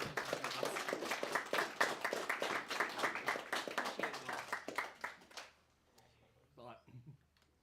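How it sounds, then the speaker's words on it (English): An audience at a monthly community meeting applauds its host, a steady dense patter of many hands clapping for about five seconds before it thins out and stops, leaving a quiet room. "Let's give our host a round of applause for volunteering to help out."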